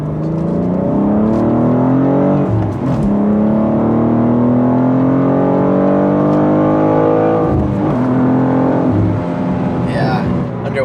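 A BMW M2 G87 with the S58 engine and stock downpipe pulls at wide open throttle, a loud steady engine note rising in pitch through the gears with brief dips at shifts, close and continuous throughout.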